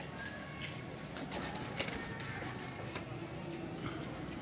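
Teddy pigeons, a breeding pair of male and female, coo softly and continuously in a loft, with faint wing flutters and scattered clicks in the background.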